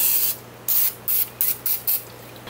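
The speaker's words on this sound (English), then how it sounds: "I'm just going to lightly spray that with some vegetable spray" Vegetable cooking spray is misted into a large casserole dish in short bursts: one longer hiss, then four quick close-up sprays in a rough rhythm, with no talk.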